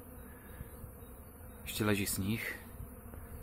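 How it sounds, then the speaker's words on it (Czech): Honeybees buzzing on their first flights after winter in the Vysočina region, with snow still on the ground, a faint hum underlying a brief spoken remark in the middle. "První prolety včeliček."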